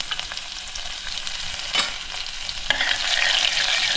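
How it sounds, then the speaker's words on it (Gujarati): Crushed garlic dropped into hot oil already seasoned with cumin and asafoetida for Kathiyawadi kadhi, a steady close sizzle and fry with stirring scrapes that grows louder and brighter midway, no talking. "હવે આપણી પાસે લસણ છે જે પીસેલું એને આપણે થોડુંક નાખી દઈશું"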